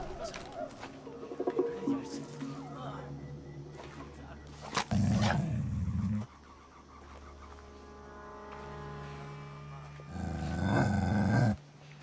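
A dog growls close by in bursts, with deep rumbling passages rising loudly over a mix of other noise and intermittent talk.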